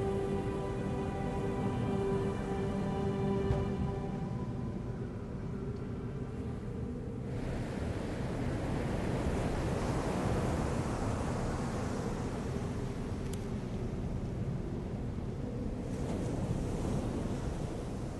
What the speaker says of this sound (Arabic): جوف صخري عميق تتصارع على جدرانه التي تشكلت منذ ملايين السنين مياه البحر الأبيض المتوسط ومياه المحيط الأطلسي